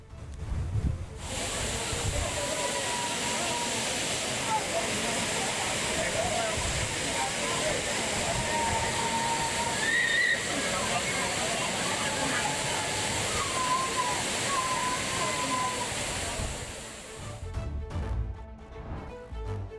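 Waterfalls at Courtallam in Tenkasi district, crowded with bathing tourists, give a steady, dense roar of falling water that runs unbroken for most of the stretch before cutting off near the end, with faint crowd voices blended into the rush.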